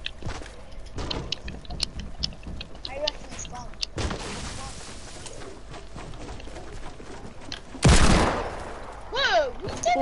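Gunfire in a video game of hide and seek, with several sharp shots scattered through the clip, one loud burst near the end, and game sounds and faint voices around them.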